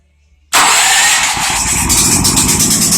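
A small engine started with its choke on catches suddenly after a brief near-silence, then runs loud and steady at a high, rough idle close by.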